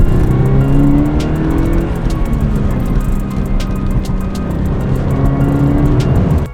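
Toyota FRS sports car pulling hard along a back road, the engine revving up through rising tones with shifts between gears, loud and close from inside the cabin, without talk.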